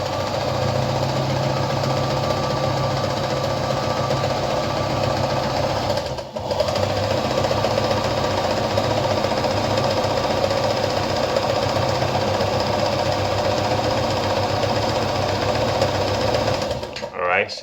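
Stitching fabric on an Anker RZ treadle sewing machine at a short stitch length makes a loud, continuous mechanical chatter close by, running steadily with one brief hitch midway before stopping at the end.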